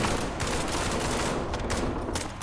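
Dense, continuous machine-gun fire and explosions fill a zombies-mode shooter game, loud and unbroken throughout with no pauses.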